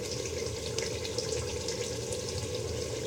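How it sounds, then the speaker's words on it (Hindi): Yakhni broth is poured over rice for a chickpea and brain biryani, a soft continuous wet splashing and sizzling heard up close with no talking. "अब मैं इस यखनी को चावल पे डाल दिया।"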